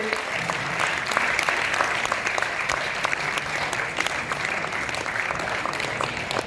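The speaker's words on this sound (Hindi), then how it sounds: "जोरदार तालियां सभी।" Steady, dense applause from an audience at a university drama event, continuous and moderately loud for several seconds with no pauses.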